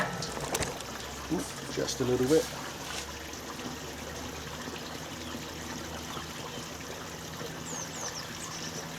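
Water trickles and pours onto fine sifted bonsai soil, a soft low stream under a quiet voice, with a brief splashy burst early on.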